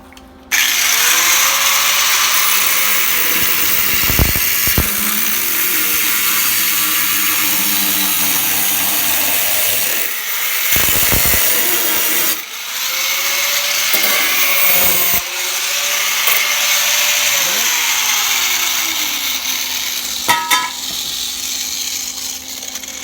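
A power tool cuts a piece off the quarter panel of a 1965 Comet, whining loudly and harshly in long runs with pitch sagging under load, broken by brief pauses between cuts.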